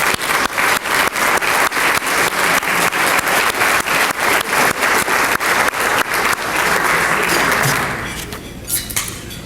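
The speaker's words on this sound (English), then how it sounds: "Give them a round of applause for all their hard work." Audience at a community awards dinner in Westmont claps in loud rhythmic unison, then breaks into dense scattered applause that fades away near the end.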